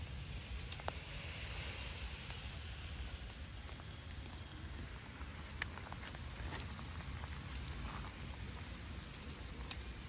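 A water sprayer mists conifers in a shade house at a nursery, giving a steady, soft hiss like fine rain with occasional faint drips, continuous and fairly quiet throughout.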